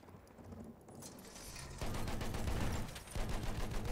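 Gunfire in the Battlefield V video game, with sustained rapid automatic bursts and dense crackling shots that grow louder partway through, heard without speech.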